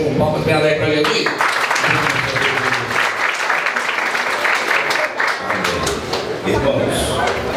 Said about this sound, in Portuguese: Palmas bem alegre para Jesus.